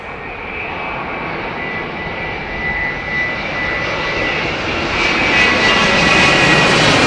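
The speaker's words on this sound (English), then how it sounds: "There's your Dreamliner." A Boeing Dreamliner jet on landing approach at Heathrow roars steadily overhead, its engine whine and rumble swelling louder toward the end, with no talking.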